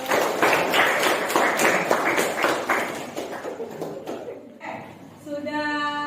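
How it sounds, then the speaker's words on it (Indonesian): A classroom audience applauds for several seconds, a close flurry of uneven hand claps that thins out before a voice begins speaking. "boleh kasih tepuk tangan dulu"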